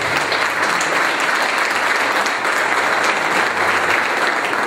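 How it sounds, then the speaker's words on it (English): Steady audience applause at a press conference, dense and continuous clapping holding at an even, loud level throughout with no voices over it. "So let's give him a big round of applause."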